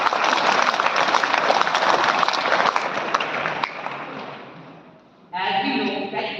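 An audience at a school event in Rewari gives a big round of applause, a dense, loud wash of clapping that thins and fades before a voice begins speaking.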